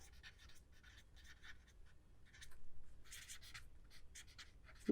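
Chalk or marker writing on a board in a quiet room, with scratchy strokes arriving in short bursts and pauses, faint and close, alone without talk.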